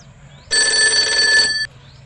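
A telephone ringing, one loud electronic ring burst of about a second with bright steady tones, starting and stopping abruptly over a quiet background.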